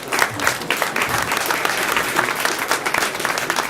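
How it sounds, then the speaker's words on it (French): Audience applause at a business presentation of a real estate and urban employment study, steady dense clapping from a crowd sustained throughout, fairly loud and close with no talk over it. "moi je pense qu'on doit l'applaudir lui"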